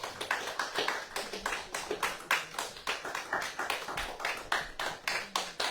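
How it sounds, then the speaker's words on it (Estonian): A church congregation claps for birthday celebrants, rhythmic, close and fairly uniform, steady beats repeating evenly for several seconds. "Teeme aplausi neile armsatele."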